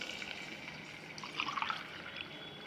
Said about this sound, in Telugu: గ్లాసుకి 3 గ్లాసుల నీళ్ళు